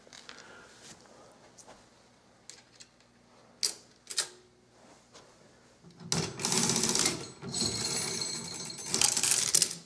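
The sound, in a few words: coin-operated Caille roulette machine trap door releasing coins to payout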